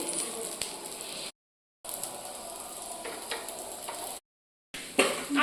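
Rava fry sizzles steadily in a pan while a Gatari special feast is cooked, a soft crackling hiss broken twice by brief silent gaps, with occasional light clicks of stirring and no talk.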